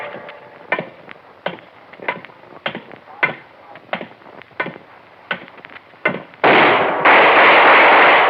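Gunshot in a radio drama, heard as a series of sharp mechanical clacks and clicks at steady intervals that end in a loud, sustained roaring burst at the close.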